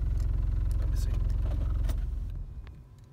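A car engine idles loudly while parked with the foot on the brake, a steady close rumble with rhythmic pulsing that fades out as the engine dies near the end, with a voice speaking over it.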